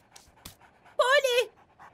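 An animated cartoon puppy pants in one short, breathy, voiced burst that stands out loud and close against an otherwise quiet background.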